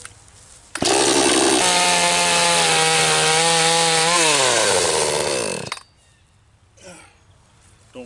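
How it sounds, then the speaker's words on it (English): A chainsaw roars loudly and close for about five seconds during wire fence corner brace work, its pitch dipping as it bites, then cuts off, leaving quiet outdoor ambience. "or you're just going to use a chainsaw."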